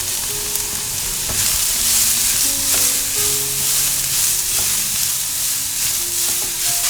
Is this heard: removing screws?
no